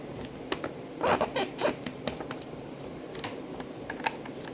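A paper cover for a chip bag is folded and creased by hand, making soft, close crinkles with a few sharper rustling snaps in irregular bursts.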